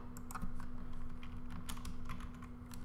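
Steady typing on a computer keyboard while spreadsheet cells are being filled in, with dense, fast key clicks running through the whole stretch over a constant low electrical hum.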